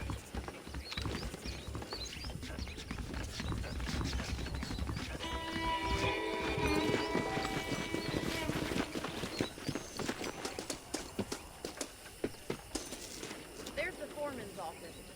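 Saddled horses' hooves clip-clop on the ground in the Red Dead Redemption western open-world game, steady rhythmic hoofbeats close by, with occasional mechanical clinks and a whinny, building in the middle and tapering off at the end.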